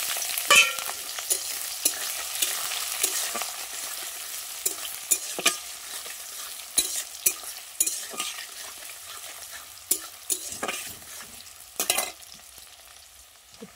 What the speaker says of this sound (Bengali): আমি পেঁয়াজগুলো দিয়ে দেবো।